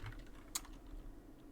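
A few faint, quick keystrokes on a computer keyboard while coding in Roblox Studio, soft and close against low room noise, with one sharper click midway.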